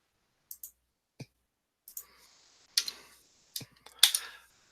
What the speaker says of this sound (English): Clicking on Ashley, send the message.